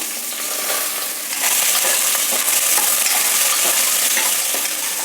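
Cut chayote fries in hot oil in a tempering, producing a loud, dense, steady hiss that swells a moment in and holds, close by, with faint stirring clicks and no talking.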